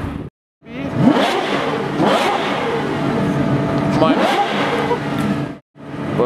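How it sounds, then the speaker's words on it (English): An N-Largo Novatec A12 GTS wide-body supercar engine revving loudly and close in repeated rising and falling bursts, broken by two brief silent gaps. "That's what an N-Largo sounds like."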